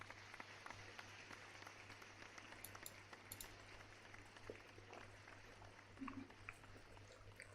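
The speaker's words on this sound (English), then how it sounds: "Let me give you an applause." An applause sound effect played during a live question-and-answer stream, faint, thin clapping running steadily underneath a low constant hum.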